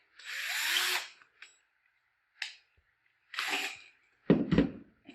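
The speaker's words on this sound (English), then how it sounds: "And I'm just going to drill a pilot hole right here in the cap." A small power drill bores a pilot hole in a plastic bottle cap for a chick nipple drinker. It gives several short whirring bursts of varying length separated by silence, close and fairly loud.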